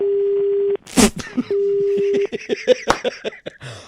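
A steady telephone busy tone sounds in two long stretches, broken by a person's voice speaking over the line.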